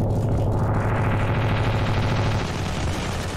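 Dense, continuous gunfire and rumbling battle noise from the Ravenfield video game during a massive naval battle mod, loud and sustained for a few seconds with no voices.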